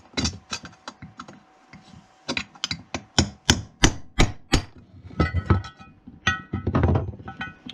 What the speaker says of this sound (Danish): så tag en hammer og en dorn, og så slå pakningen ud den vej.